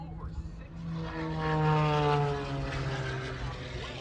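Jet-powered vehicle with a Westinghouse J34 jet engine at the Columbus, Ohio air show, a distant whining roar with a falling and rising tone that swells in the middle, heard under a commentator's voice.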